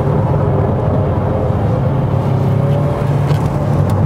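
Inside a new Renault Samsung SM6 midsize sedan with a 225-horsepower turbo engine and synthetic engine sound, a loud, steady engine drone and road rumble fill the cabin while driving, with no talk.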